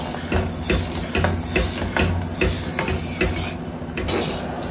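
Date palm jaggery syrup boils in a pan with dense, irregular bubbling pops and clicks over a steady low simmer, close and fairly loud throughout.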